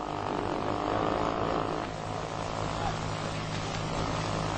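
A vintage model airplane engine from the 1930s to 1960s drones steadily and loudly through the whole stretch, with a voice talking over it.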